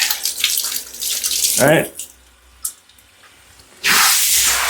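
Water running and splashing while a dog is bathed at home, a steady hiss with bursts of pouring, with a brief spoken word partway through.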